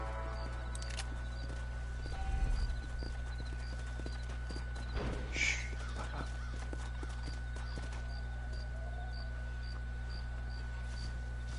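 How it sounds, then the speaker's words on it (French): Steady clip-clop of horse hooves in Red Dead Redemption over a constant low hum, with soft periodic ticks and a brief whinny-like sound in the middle. "Ah, il y en a un cheval."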